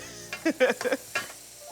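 Garlic and onion hit hot oil with a few short bursts of sizzling and crackle, a steady faint hiss underneath that fades off toward the end.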